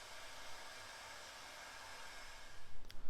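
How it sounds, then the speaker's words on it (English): A heat gun shrinks heat shrink tubing over wire connections during a Honda Civic radio install, a steady, close blowing hiss with a few louder puffs near the end. "We're going to use a heat gun to shrink the tubes."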